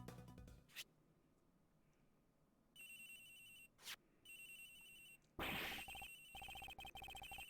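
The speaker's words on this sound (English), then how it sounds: "Agent Hicks' phone. It's ringing from somewhere." A mobile phone in the Ace Attorney Investigations video game rings in repeated electronic bursts with short gaps between, fairly faint and heard alone.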